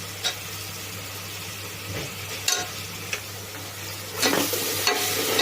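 Ginger-garlic paste fries in oil in a pan for a brinji rice dish, a steady sizzle with a low hum underneath and a few scraping stirs and clatters, and no voices.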